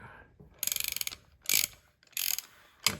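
Half-inch drive ratchet unscrewing a part from an L134 transmission for a flat fender Jeep: close, sharp bursts of rapid ratcheting clicks, four separate spells with short pauses between them.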